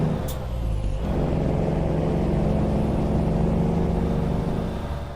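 Kenworth T2000 truck in American Truck Simulator: a sharp air-brake hiss at the start, then a steady, loud, rumbling diesel drone under way with no talk.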